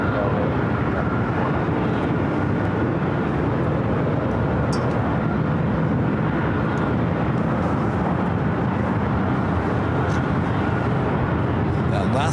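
A jet airliner roars on takeoff from the south side of LAX, bound for Las Vegas, a broad steady rumble held at constant loudness across the whole stretch.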